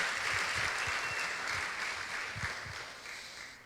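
A church congregation applauding during a Sunday morning service, a sustained wash of many hands clapping with a few louder nearby claps, gradually fading toward the end.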